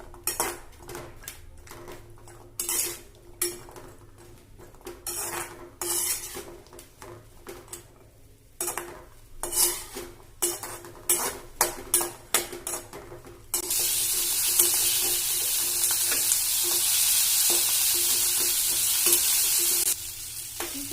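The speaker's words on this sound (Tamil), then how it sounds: "வெங்காயம், இஞ்சி, பூண்டு, தக்காளி இதெல்லாம் கொஞ்சம் நல்லா எண்ணெயில் வதங்கணும்" Onion, ginger, garlic and tomato sautéing in oil in a pan, with repeated clinks and scrapes of a metal spoon against the pot over a steady sizzle that swells into a loud, continuous hiss in the later half.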